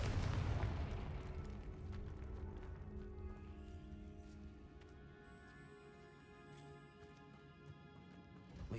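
A Confringo fire spell blasts in the game Hogwarts Legacy, starting with a loud, deep boom that fades into a rumbling tail, followed by quieter tonal game sounds.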